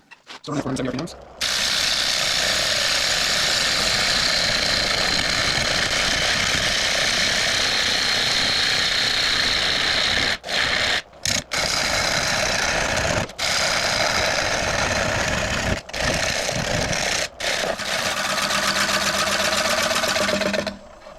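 Wood lathe turning a piece of maple and throwing off shavings: a loud, continuous whirring drone broken by brief pauses and tool contact, with a voice speaking over it.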